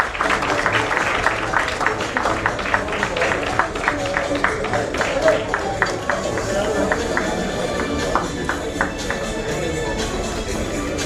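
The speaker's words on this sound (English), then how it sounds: "Can we please have an energetic and loud round of applause for all the dignitaries present here?" Scattered clapping from an audience honouring dignitaries at a football league trophy unveiling ceremony in Mumbai, steady but fairly thin, with crowd chatter and background voices underneath throughout.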